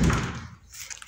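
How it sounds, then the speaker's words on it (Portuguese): A house door swinging shut with a single close thunk at the start, then quiet room tone. "deixa eu fechar a porta"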